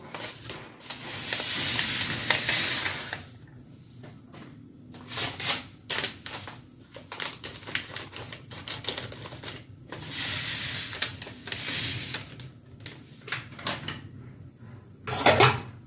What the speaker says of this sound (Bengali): এবার আমি এই কালো জিরেগুলো শুকনো খোলায় ভাজবো মানে ড্রাই রোস্ট করবো